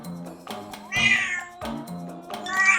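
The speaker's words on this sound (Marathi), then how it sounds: "रस्त्यात त्यांना एक मांजर दिसली." A cartoon cat meows several times at close range, with drawn-out, wavering cries spaced about a second apart, plus a soft underlying musical tone.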